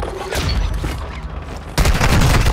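Enemy gunfire rattles through a Call of Duty: Modern Warfare II firefight, a dense, loud burst of shots and booms filling the whole stretch and swelling heavier near the end.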